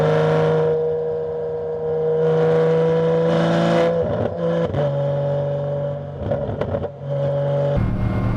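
A 1981 Porsche 911 SC with an air-cooled engine pulls hard through the gears, its steady rising drone broken by several quick gear changes and shifting pitch, heard close from inside the car with no talking.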